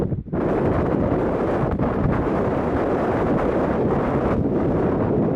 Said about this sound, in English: but it's blowing like anything.